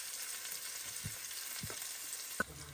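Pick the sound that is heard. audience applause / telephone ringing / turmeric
turmeric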